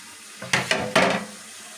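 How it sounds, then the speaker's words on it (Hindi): Tap water runs and splashes into a kitchen sink as dishes are washed at home, with a few short bursts of clatter and gushing, close and fairly quiet, and no talking. "बस अब थोड़े से बर्तन हो रहे हैं"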